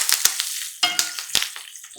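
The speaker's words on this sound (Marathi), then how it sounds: "फोडणी अशी खमंग बसली ना की पदार्थाला स्वाद बहारदार येतो." Urad dal, asafoetida and curry leaves dropped into hot oil for a tempering, sharp crackling sizzle with bursts and pops, close and loud, fading toward the end.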